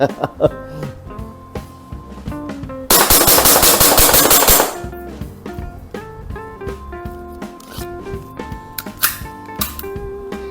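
Umarex VFC Walther PPQ M2 airsoft BB pistol fired in a quick run of shots, forming a loud, harsh burst of nearly two seconds over steady background music, with a few fainter clicks afterward.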